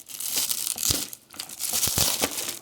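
Plastic packaging of a fidget toy set is torn and crinkled open by hand, close and fairly loud, with bursts of crackling and ripping and a brief lull midway.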